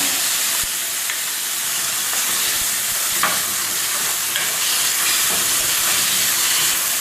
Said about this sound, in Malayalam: ഇത് നന്നായിട്ടൊന്ന് വഴറ്റുക. ടൊമാറ്റോ ഇടുക.